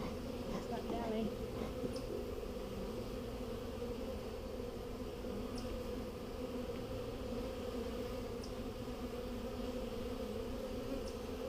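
Honey bees swarm around an opened lower hive section, a steady dense buzzing drone that fills the whole stretch at low level, with faint ticks and a few soft background sounds mixed in.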